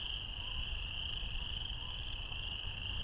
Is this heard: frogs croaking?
yes